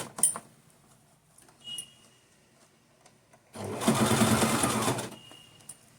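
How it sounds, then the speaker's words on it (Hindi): Sewing machine stitching a winter dhoti for a Laddu Gopal figure: a short, steady whirring run of stitches after a few faint clicks and handling sounds, close and fairly quiet. "यहाँ पे मैं मशीन चलाऊंगी"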